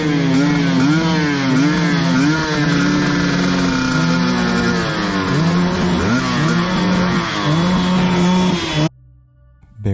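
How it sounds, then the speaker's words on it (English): Several motorcycle engines rev loudly and repeatedly, rising and falling in pitch in overlapping bursts, then cut off abruptly near the end. "They revved the engines on their motorcycles to make more noise"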